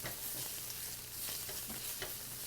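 Garlic and chicken sizzle quietly in a pan as they caramelize, a soft steady frying hiss with occasional light scrapes of a spatula stirring.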